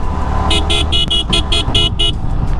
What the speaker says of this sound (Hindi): चलो फिर हॉर्न मारते मारते पहुँच के सनी पाजी के दुकान पे।